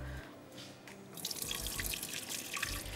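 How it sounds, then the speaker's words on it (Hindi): Tap water runs and splashes into a sink as rice is rinsed in a home kitchen, a steady close trickle that swells louder partway through, with drips and clinks over it. "ज़रा चावल धो दूँ।"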